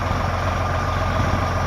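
A truck engine idles steadily at close range, a continuous low rumble with no change in pace and no voices over it.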